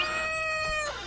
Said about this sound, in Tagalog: Simurot ti pusa dito'y.